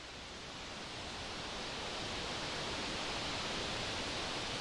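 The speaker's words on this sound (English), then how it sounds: "So that concludes what I'm doing with the ocean water sound." Synthesized ocean water built from filtered noise in the VCV Rack modular synth, a dense, continuous hiss that swells gently, steady and loud throughout with no voices.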